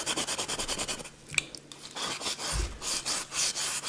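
Stubborn spots are scrubbed off a turkey egg in quick, rhythmic rubbing strokes, close and fairly loud, pausing briefly before resuming with a low bump.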